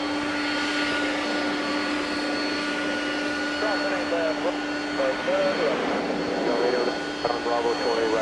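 Jet airliner engines on a Las Vegas bound flight at Atlanta airport drone loudly and continuously with a steady whine, while a voice speaks over the roar.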